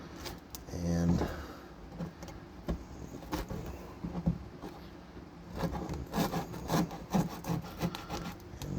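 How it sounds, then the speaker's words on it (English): Tape being rubbed along its edge to lift and separate it during a T56 Magnum transmission tunnel modification, with repeated close scratchy rasping strokes in uneven bursts over a faint steady background hum. "if you take and rub the edge here, you get that tape to come apart"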